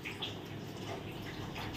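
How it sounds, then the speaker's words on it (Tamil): Half a kilo of biryani rice is poured into boiling water for a prawn biryani, making a steady, close, rushing and bubbling wash of water with no pauses. "இப்போ நம்ம இதில் வந்து நான் வந்து 1/2 கிலோ பிரியாணி அரிசி போடுறேன்."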